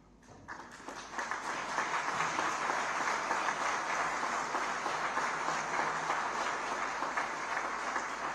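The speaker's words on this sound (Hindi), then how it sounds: "हम उन्हें तालियों की गूंज से सम्मानित करें" Applause from a large crowd at the inauguration of a Naval War College building builds within the first second and then holds as a steady, dense wash of clapping.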